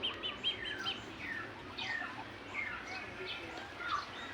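Young turkey chicks on a turkey farm peep in a run of thin, high chirps against a steady background murmur, with no talk.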